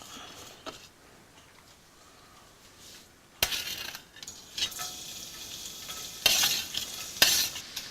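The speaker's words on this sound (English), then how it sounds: "So we start off with putting in the garlic." Garlic hits hot oil in a pan for Malaysian Mee Siam, starting as a faint low sizzle before a sharp burst of frying at about three and a half seconds, then steady crackling with stirring scrapes and brief louder flare-ups.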